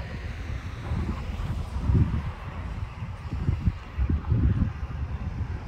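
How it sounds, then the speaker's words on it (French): Wind gusts buffet the microphone beside a roadside lined with pampas grass near Bayonne, a low rumbling roar that swells and fades in uneven surges with no voices. "Là, il y a du vent, là."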